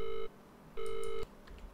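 Telephone keypad tones beep in the horror game Visage, two clear dial tones a moment apart, close and loud against a quiet background.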